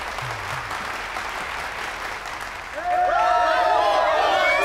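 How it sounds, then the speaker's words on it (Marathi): An audience welcoming three students onto a stage with applause that starts thin, then swells into loud, sustained, dense clapping from a large crowd. "सर्वांनी जोरदार टाळ्या वाजवून या तिघांचं स्वागत करावं."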